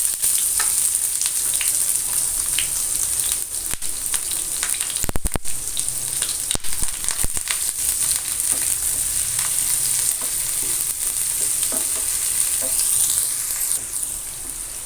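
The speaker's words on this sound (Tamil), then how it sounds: "வெங்காயம் வந்து நல்லா கோல்டன் ப்ரௌன் ஆகணும், அது வரை வதக்கலாம்" Large chopped onions sizzle steadily in a hot pan while being fried toward golden brown for mutton chukka, a continuous crackling hiss with occasional stirring scrapes, close and unbroken.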